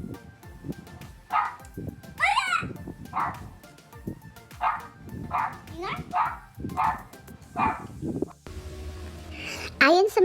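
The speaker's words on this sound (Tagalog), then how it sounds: "Ano yung aso ko?" A pet dog barks in short, repeated bursts, close by and moderately loud, over a home meal of a Filipino-style seafood boil in butter sauce, with people talking throughout.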